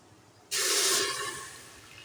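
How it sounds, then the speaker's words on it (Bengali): Water rushes into a pressure cooker holding dal on the stove, starting abruptly as a loud close splash and pour that gradually eases off, with no talk. "তারপর আমি জল অ্যাড করব।"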